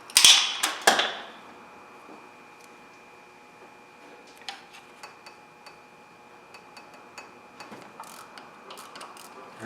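A ratchet clicks while loosening the water pump bolts on a Ford Crown Victoria, with a loud burst of rapid pawl clicks at first, then sparse, quieter ticks and clicks spread over several seconds.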